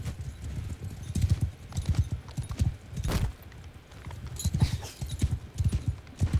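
A horse gallops in Mount & Blade II: Bannerlord, its hooves drumming in a fast, steady clip-clop close by, with one brief sharper hit in the middle.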